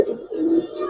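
Giribaz and coloring pigeons give a short, close, fairly loud coo, a low throaty rolling call of under a second.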